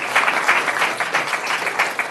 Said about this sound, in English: So a round of applause for Orhan